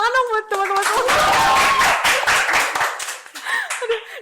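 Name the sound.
audience clapping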